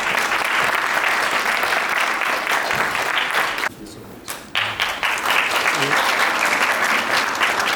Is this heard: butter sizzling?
no